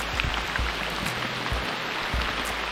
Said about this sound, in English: You'll never guess what happens in the rainforest, though. It rains.